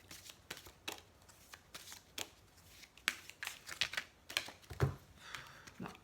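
A deck of cards is shuffled and cards are drawn, giving soft, close, irregular snaps, flicks and riffles at low level with no talk over them.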